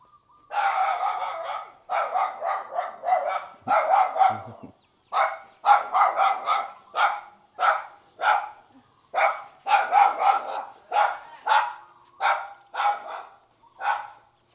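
Dogs bark repeatedly in close, rapid bursts, several animals overlapping in a steady stream of loud yaps with brief pauses between volleys.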